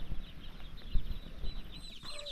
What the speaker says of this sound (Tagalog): Meron din ako dito mga sisiw.